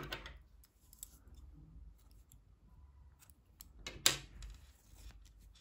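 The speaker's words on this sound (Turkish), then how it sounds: "14 ilmek ile tamamladım ipliği kesiyorum" Scissors snipping crochet yarn, quiet close blade clicks with one crisp cut standing out, in a calm indoor setting.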